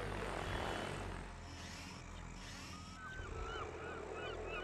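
A small drone flying in Call of Duty: Advanced Warfare, giving a steady, close whirring engine drone that holds throughout, with faint chirping tones layered over it toward the end.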